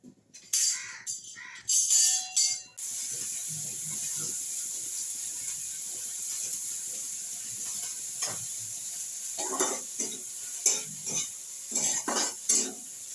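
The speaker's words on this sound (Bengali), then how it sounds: "তিত করলাটা বসিয়েছি" Bitter gourd frying in a pan, a steady oil sizzle running throughout. It is broken by scraping, clinking stirs, a cluster at the start and more toward the end, with no talking.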